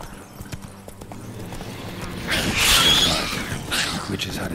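Horse hooves galloping in The Witcher 3, a rhythmic clip-clop rising into a louder rush midway, heard close with a voice speaking over it.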